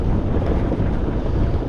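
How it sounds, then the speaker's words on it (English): A sailboat's engine runs under way on open water, a steady low droning rumble heard close up and continuous, mixed with wind buffeting the microphone and the wash of the sea. "I put the engine on"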